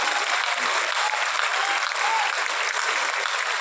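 An audience applauds at a homeopathy event in Lucknow, a dense and steady wash of clapping from many hands, loud and unbroken throughout.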